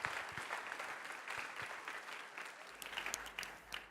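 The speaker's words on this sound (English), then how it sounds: "Give her a round of applause." Audience applause at a tech startup conference in San Francisco, a steady wash of clapping from a large crowd that runs the full length, with a few sharper nearby claps toward the end.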